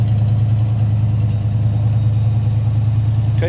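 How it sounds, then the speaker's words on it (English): A 1966 Ford Mustang coupe's 289 V8 rumbles steadily at idle, a deep, even low throb that stays loud and close throughout, with a brief higher tone near the end. "Nice little rumble out of that 289"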